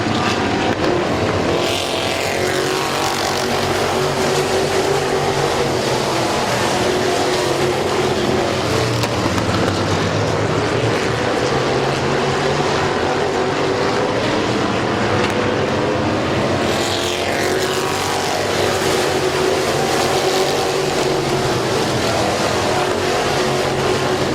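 Race cars racing at Midvale Speedway, engines roaring loudly and steadily as cars sweep past in waves, with rising and falling pitch as they pass by close.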